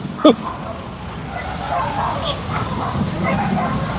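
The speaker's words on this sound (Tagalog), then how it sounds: "Laki ng aso." A single sharp bark from a large dog rings out near the start on a street corner. Steady outdoor background noise with distant traffic follows.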